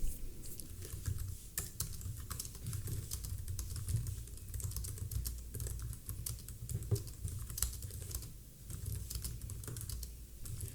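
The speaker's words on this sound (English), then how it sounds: "I press enter and start typing." Steady, fast typing on a computer keyboard while writing a blog post, with dense clicking keystrokes close to the microphone over a low background hum and occasional louder key presses, and no speech.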